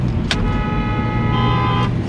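A truck roars past at close range on a road while a car horn gives short toots, all loud and close over steady engine and traffic noise.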